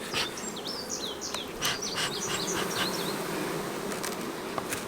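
Honeybees swarm thickly around an opened hive full of several brood generations on orientation flights, a steady dense buzz with individual bees zipping close by, alongside a few faint bird chirps.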